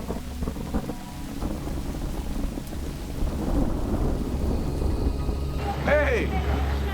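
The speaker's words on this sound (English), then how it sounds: "Hey, it's raining, but we're still gonna play." Rain falls before an outdoor stadium concert, a steady wet wash with low rumbling beneath, while people talk nearby and a brief rising electronic whine comes in near the end.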